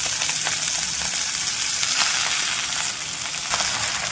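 Garlic and chopped fenugreek leaves fry in hot oil for dhaba-style lasuni methi, giving a steady close sizzle and hiss with occasional light stirring clicks, and no voices.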